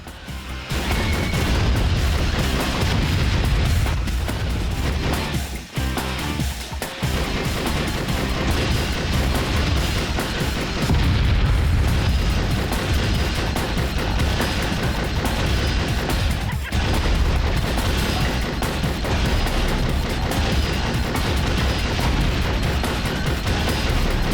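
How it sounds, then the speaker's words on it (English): Missiles launching and blowing up during a Twisted Metal vehicle-combat match, a dense, loud barrage of blasts, crashes and bursts running almost without pause, with a brief lull midway before the chaotic onslaught resumes. "I got 20 missiles of this, and I'm taking them out of your ass."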